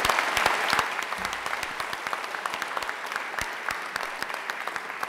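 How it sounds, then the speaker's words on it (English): Graduation ceremony audience applauding the musicians, a hall full of clapping that starts as a dense wash and thins into scattered sharp individual claps as it tapers off. "our musicians also deserve a round of applause"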